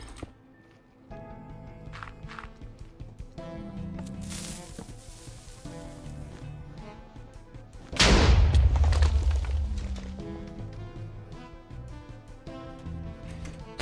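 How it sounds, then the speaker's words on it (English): TNT blasts from a pearl cannon in Minecraft go off amid game sounds, one heavy booming explosion standing out loudly in the middle and then fading over several seconds. "This guy built a TNT pearl cannon to pearl all the way over the lava."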